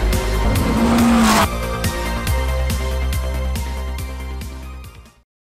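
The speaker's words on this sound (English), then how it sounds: "a spin for Colin Day" A race car spins out during a motorsport race, with loud tire squeal and engine noise at first, then a steady rhythmic mechanical thumping that fades to silence at the end.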